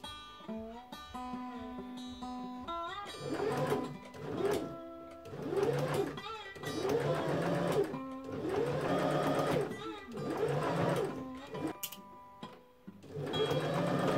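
A sewing machine stitches a seam joining velvet to the lining of a red velvet robe: close, rhythmic whirring bursts repeat steadily with brief pauses between runs, with no talking.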